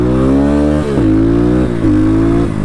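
A 2023 X PRO Titan DLX dirt bike engine revs hard and steady at close range, its pitch dipping and climbing twice as the throttle is worked.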